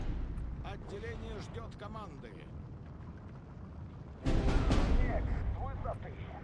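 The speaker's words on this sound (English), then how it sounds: "That artillery is really obnoxious as well" Artillery fire in the WW2 strategy game Steel Division 2 rumbles as low, distant booms under ongoing battle noise, with one heavier burst of blasts midway, while a person talks over it.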